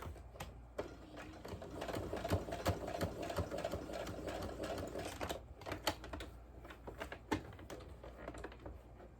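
Sewing machine stitching around fabric for an elastic scrunchie, quiet rapid mechanical rattling in short bursts with brief pauses, close by and with no talking.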